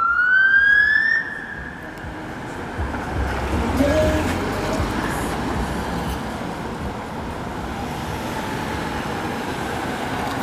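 A police car siren wails on a Montreal street during a fire department response on Rue St Ambroise, loud and continuous at first and then dropping lower as steady traffic and street rumble carry on for about ten seconds.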